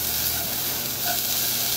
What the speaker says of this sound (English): So I'm gonna turn the heat on, and then from here I add garlic.